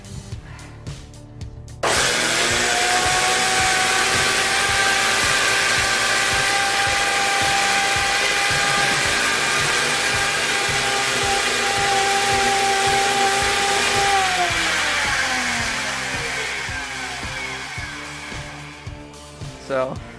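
A failing Craftsman shop vac runs loud and steady for most of the stretch, its motor giving off a high winding whine that sags and winds down near the end, with no voices over it.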